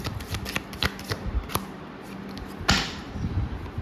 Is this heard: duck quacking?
no